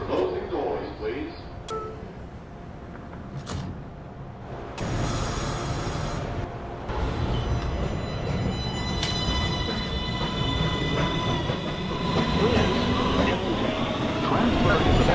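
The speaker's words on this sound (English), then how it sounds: "This is a Manhattan-bound 1 train" A New York City subway 1 train, an R262 car, runs between stations with a loud rumbling roar, rattling wheels and squealing rails, plus intermittent automated-sounding announcements.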